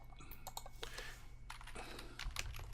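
Quiet, steady typing on a computer keyboard as a word is entered into a search box, with soft clicks spread over a constant low background hum and no talk.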